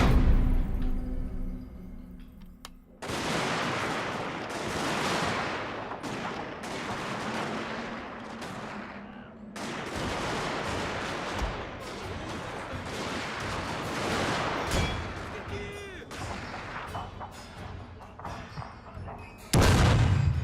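Cannons fire in a Total War: Shogun 2 battle, giving repeated booming blasts and crackling gunfire volleys over a noisy battlefield din, with someone talking over the action.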